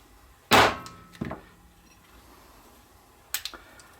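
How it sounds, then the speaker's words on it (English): A circle punch knocks plastic discs out of sheet stock for a toy tractor build, giving a loud, close single strike followed by a softer knock and, later, two lighter taps, with quiet room tone between them. "I'm going to punch out a couple of these plastic discs, just like this."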